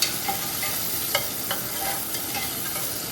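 Onions browning in a pot, a continuous close sizzle with scattered light scraping strokes of a stirring spoon, no talk.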